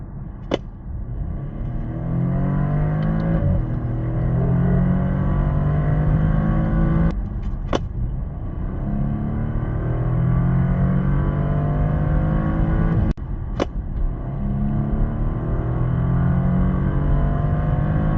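A new Porsche Panamera engine revs hard from inside the cabin, its pitch climbing repeatedly as the quick gearbox snaps through shifts, each marked by a brief sharp click and drop in tone.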